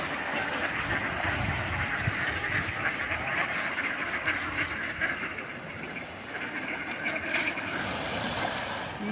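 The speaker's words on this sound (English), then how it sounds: "This is their pool. Look at these ducks." Ducks quack in a zoo pool, a continuous busy chatter of many birds mixed with splashing water, moderately close and without talk.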